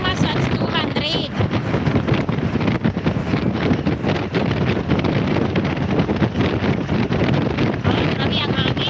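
Strong wind blowing outdoors, heard as gusty, rumbling buffeting against the microphone that pulses unevenly throughout.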